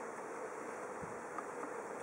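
A close, continuous drone of honey bees crowding over frames pulled from their hive, with a soft low thump partway through and no speech.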